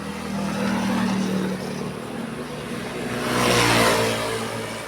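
A motor cab's engine passes by on a street, its hum rising in a first swell, easing off, then building into a louder, brighter roar as it draws near and moves away.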